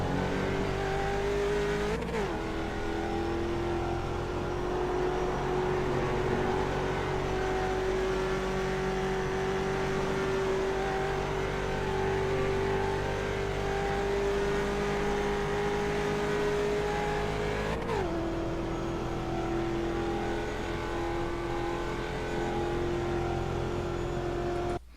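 Mustang race car engine in iRacing at Watkins Glen, a loud sustained drone that climbs steadily in pitch, with two sharp gear-change breaks before the revs settle again, heard alone without talk.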